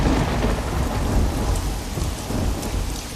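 Heavy thunderstorm in an animated depiction of the 1757 Battle of Plassey: loud, continuous rain pounding on surfaces with deep rolling thunder rumbling underneath, close and enveloping, with no voices.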